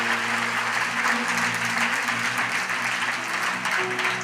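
An audience claps together through a spiritual talk, steady continuous applause at moderate level with a faint hum underneath, no speech over it.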